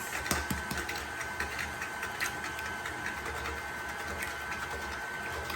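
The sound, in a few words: electric mixer with whisk attachment running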